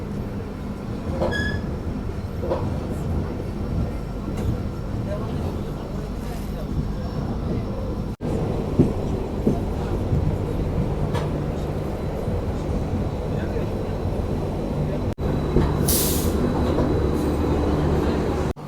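The Jan Shatabdi Express rolls into Chaparmukh Junction in Assam's Nagaon district with a loud, continuous rail rumble and clatter of carriages, brief clicks and a short hiss near the end, with some voices faintly underneath.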